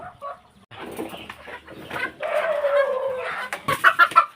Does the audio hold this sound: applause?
no